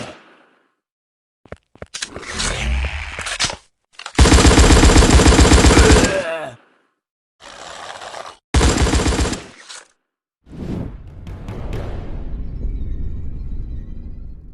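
Heavy, large-caliber weapon fire in the mobile shooter game Dead Zone, loud sustained bursts of rapid automatic shots separated by short silences, ending in a rumbling tail.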